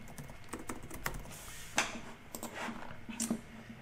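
Rapid light typing on a computer keyboard, a run of quick irregular clicks and taps close to the microphone with a couple of sharper keystrokes, no talking.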